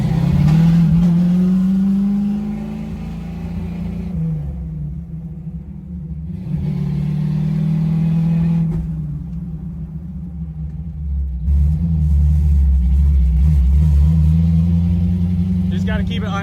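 A lowered box Chevy with an LS engine swap revs hard while driving, the engine climbing in pitch through the gears with brief drops between shifts, loud and close, with occasional talk over it.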